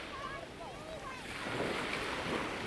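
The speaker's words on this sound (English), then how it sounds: "time the waves coming in." Ocean surf washes in at Portobello Groynes with a rising rush, heard faintly alongside wind noise and a few distant bird calls.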